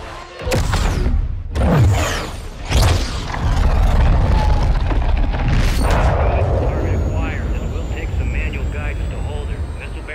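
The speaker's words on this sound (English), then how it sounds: "Missile is ready for immediate delivery. Stand by for launch." In Call of Duty Modern Warfare 2, a missile launches with several sharp booms followed by a loud, sustained roaring rush that slowly fades.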